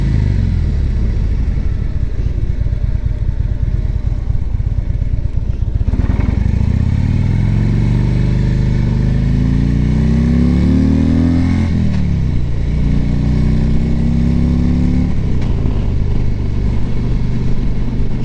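A 2011 Harley-Davidson Ultra Classic Limited motorcycle engine idles with a loud, steady rumble, then revs up in several rising pulls and drops back between them, heard close with no talk.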